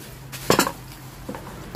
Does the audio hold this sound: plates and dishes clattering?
yes